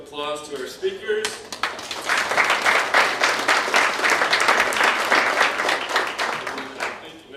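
Convention attendees break into applause for the speakers, starting after a moment of voices and building into a steady, dense round of clapping that carries on to the end.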